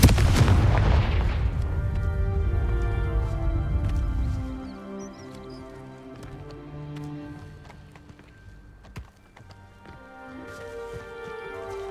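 A fiery Confringo spell blasts in Hogwarts Legacy, opening with a loud, rumbling boom that fades over several seconds, followed by sharp impacts and a tonal magical ringing that lingers through the rest.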